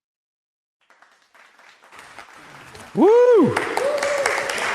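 Studio audience at a science-communication competition final breaking into applause, starting as a faint patter and swelling into loud clapping joined by a whooping cheer and a voice.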